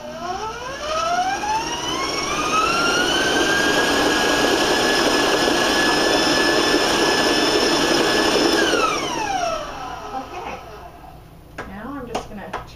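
An electric stand mixer fitted with a paddle beats butter cake batter, its motor whining up in pitch, holding a loud steady drone for several seconds, then winding down and stopping, followed by clinks and handling noise.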